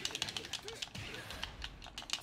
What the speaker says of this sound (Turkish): Dayaktan çok tuş sesi var hakikaten ha.